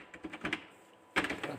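Short bursts of computer keyboard typing, a quick run of keystrokes, a pause, then another cluster of clicks, close and moderately loud with no talking.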